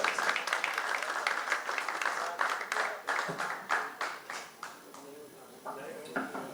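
An audience at a university poetry gathering (mushaira) claps, distinct sharp hand claps thinning into scattered, sparser claps, with a voice speaking over the later part.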